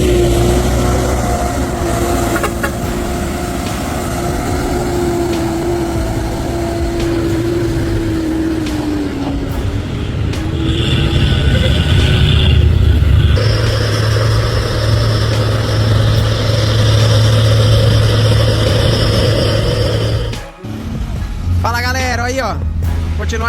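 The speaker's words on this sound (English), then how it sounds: "The truck lumbered up the steep hill, the engine roaring like a beast struggling." A heavy off-road truck grinding up a steep gravel hill, its engine a steady, deep drone that swells and strains, with a voice speaking over it almost throughout.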